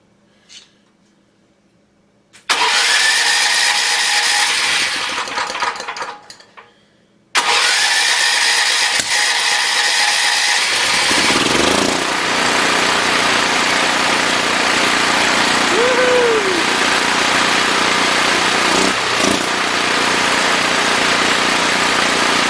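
A junkyard generator engine cranks briefly, then starts and settles into a loud, steady governed running drone close by, holding an even pitch throughout.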